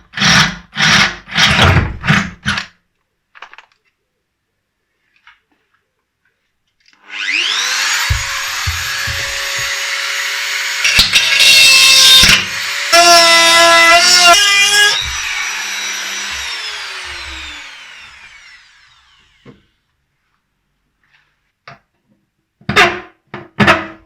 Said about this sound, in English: I'm now going to drill an 8 millimeter hole in there because that's the biggest bit I've got, and then I'm going to use a Dremel